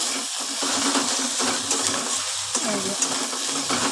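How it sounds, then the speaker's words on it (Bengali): Ginger-garlic paste sautéing in a pan while being stirred, a steady close sizzle with scraping stir strokes throughout, no voices. "আদা রসুন পেস্টটা আমি একটুখানি নাড়াচাড়া করে নেব যতক্ষণ কাঁচা গন্ধটা থাকবে আদা রসুনে ততক্ষণ একটুখানি কষিয়ে নেব"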